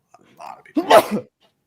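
A single sharp sneeze bursts out close to the microphone after a brief soft intake of breath, set against otherwise quiet surroundings in an indoor talk-show conversation.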